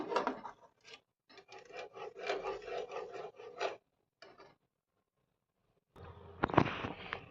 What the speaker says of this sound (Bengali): এবার টক দইটাকে মশলাগুলোর সাথে ভালোভাবে কষিয়ে নেব